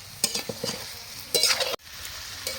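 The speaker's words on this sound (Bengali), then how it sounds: "মাংস কষানো চলছে আমাদের" Mutton sautés in a pan as it is stirred, giving a few short scraping bursts over a steady sizzle, close and with no one speaking.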